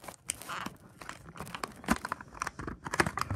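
Plastic and cardboard packaging of die-cast toy cars being torn open and crinkled up close, a busy run of crackling, ripping and crunching bursts with no speech.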